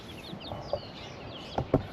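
Backyard chickens cluck faintly in short scattered calls, with a few sharper clucks near the end over a low steady background.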